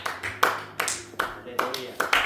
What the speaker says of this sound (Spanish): Denle un aplauso a Cristo, hermanos.